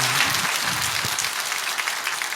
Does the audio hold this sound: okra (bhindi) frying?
no